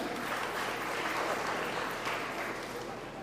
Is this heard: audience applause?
yes